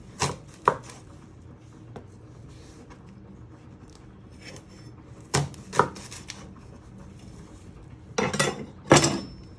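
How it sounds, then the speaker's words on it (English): A knife chops the ends off a vegetable for pea and ham soup, sounding as sharp single thuds on a cutting board with a few taps and clinks between them, some struck in quick pairs and separated by quiet handling. "Then you chop both your ends off."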